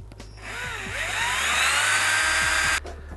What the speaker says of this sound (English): drill your center and drill your holes here.